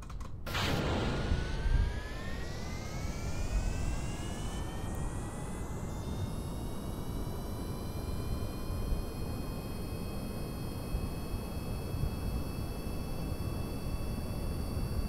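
A rocket engine in the Kerbal Space Program video game roars up to full throttle for liftoff. A steady, loud, broadband rumble holds throughout, with rising whining tones climbing and then leveling off, and no talking.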